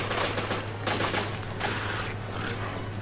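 Rapid gunfire from the video game Resident Evil Revelations during a co-op boss battle, a dense continuous burst of shots over a constant low hum with no speech.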